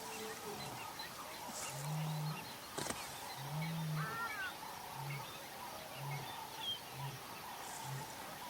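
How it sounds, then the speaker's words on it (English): A wild male lion roars in a series of low, rhythmic grunting calls, distant and faint, in the bush near the Sabi Sands border of South Africa, with birds calling softly in the background. "Heard a lion roaring, probably the red road male, direction of the drainage line"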